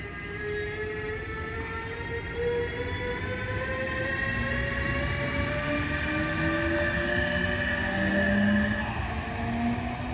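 Trains running on the DB mainline at Radebeul Ost in Germany, a steady loud rolling rumble with rising and falling wheel and motor tones as cars pass close by, continuous throughout with no voices.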